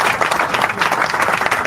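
A canned applause sound effect from an applause button on a live show, a short dense burst of clapping and crowd noise heard close and loud throughout.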